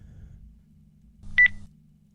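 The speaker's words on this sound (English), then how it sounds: "I heard a small beep inside my brain, just like I would if I was thinking of a noise" A single small electronic beep, short and clean, set in a cozy horror story, with low quiet rumble before and after.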